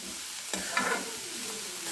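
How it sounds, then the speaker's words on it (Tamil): Onion, mustard seeds, urad dal and coconut sautéing in a pan while a spoon stirs with a sharp scrape, and a soft sizzle runs throughout, close and fairly quiet. "இப்போ எல்லாத்தையுமே இந்த வெங்காயம் கடுகு உளுந்தம் பருப்பு தேங்காய் எல்லாத்தையுமே நம்ம நல்லா வதக்கி எடுத்துக்கலாம்"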